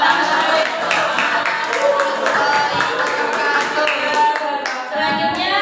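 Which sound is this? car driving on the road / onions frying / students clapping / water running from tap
students clapping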